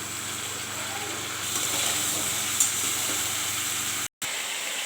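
Taro and ridge gourd fry in a pan where onion and green chilli paste are already browning, giving a steady, fairly loud broadband sizzle with a brief dropout near the end.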